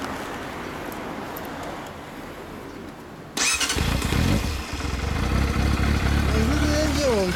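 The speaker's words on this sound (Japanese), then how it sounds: "オッケー、あのエンジンかけてもらえますか？" A Yamaha Fazer400 (FZ400) motorcycle sits quietly, then its engine cranks and catches abruptly, settling into a loud, steady four-cylinder idle with a brief blip near the end, recorded close by.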